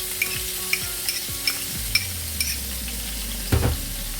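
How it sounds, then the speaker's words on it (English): Two large diced onions sizzle in a pot of oil for lamb biryani while a spoon stirs them, giving a steady frying hiss broken by regular light metallic taps and one louder clatter near the end. "Now I'm going to be adding my onions. I've got 2 large diced onions."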